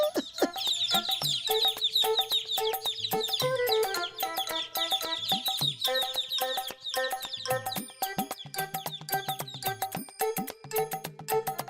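Cartoon chickens cluck and chirp busily in a steady, dense chatter of bird calls with a rooster-like call in the mix, bright and continuous throughout with no talking.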